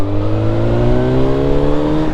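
A motorbike engine revs close by, its pitch climbing smoothly in a loud, continuous roar with strong low rumble and rising harmonic tones.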